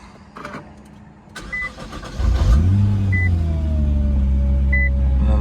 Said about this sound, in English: We'll cold start.